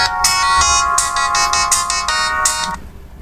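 A Samsung SGH X600 mobile phone plays its ringtone loud and close: a bright, buzzy electronic melody of quick repeated notes that stops abruptly near the end, with no voices.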